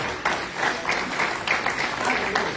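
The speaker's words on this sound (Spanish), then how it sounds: "Dele fuerte al Señor ese aplauso." Church congregation applauding during a sermon, a steady wash of clapping at moderate loudness with rhythmic swells and voices mixed in.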